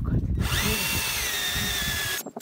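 A power drill whirs steadily at close range for about two seconds while boring into a Land Rover Discovery 3 spare wheel carrier, its pitch shifting slightly as it bores, then stops abruptly.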